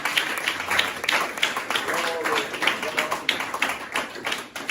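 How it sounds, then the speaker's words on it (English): Congregation hand clapping after worship at a home aide training center dedication, rhythmic and fairly loud, with voices mixed in among the claps. "Let's give the Lord a hand clap."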